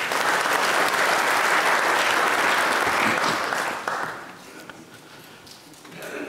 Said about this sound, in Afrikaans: Kom ons gee vir haar 'n lekker hande klap.